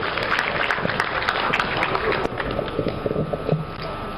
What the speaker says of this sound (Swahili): naomba tumpigie makofi mengi sana Katibu Mkuu wetu